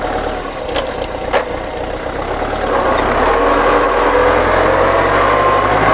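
A used Kubota L4508DI four-wheel-drive tractor with a four-cylinder direct-injection diesel idles nearby in a steady, loud rumble. A few sharp knocks come early, and the engine note thickens and settles later.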